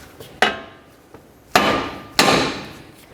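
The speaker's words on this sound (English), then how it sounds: "typically I like to use a hammer, and I'm going to bonk right along the knuckle right here" A hammer strikes the steering knuckle of a 2006-2012 Ford Fusion to free the tie rod end: four sharp metallic blows at uneven intervals, two faint and two loud, each ringing briefly, close and alone.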